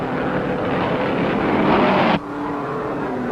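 Race cars at the 1951 Indianapolis 500 roar past at speed, a loud continuous engine drone with wind rush that builds and then drops sharply as the cars go by.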